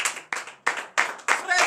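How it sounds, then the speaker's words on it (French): A morning prayer congregation in Benin gives rhythmic clapping in praise of Jesus, with five loud, evenly spaced bursts of clapping and cheering voices, close and energetic. "Veuillez vous lever sur vos pieds et donner de vive acclamation à notre Seigneur Jésus."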